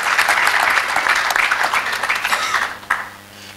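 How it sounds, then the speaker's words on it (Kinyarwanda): An audience at a dinner panel discussion applauds a pastor, a loud, dense burst of clapping that gradually thins and fades with a few last claps. "Reka tumushimire, tumukomere amashyi."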